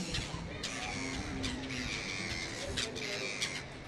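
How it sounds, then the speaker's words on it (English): Gulls squall and cry repeatedly over a steady wash of harbor noise at a fishing harbor on the V&A Waterfront, Cape Town, their harsh calls rising at intervals from the middle distance. "you'll hear the unmistakable squalling of seagulls, a permanent feature of any fishing harbor"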